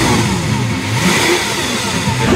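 A supercar engine on a test drive revs loudly and close, a rough throaty roar that rises and falls without pause and has no talking over it.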